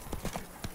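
Hooves of the horse Roach galloping in The Witcher 3, a quick rhythmic clatter of hoofbeats, brief and fairly faint.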